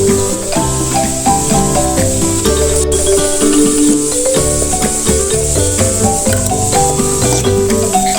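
Carrots frying with chilli, coriander powder and garam masala in an Andhra-style stir fry, a steady close sizzle and hiss with stirring and scraping under it.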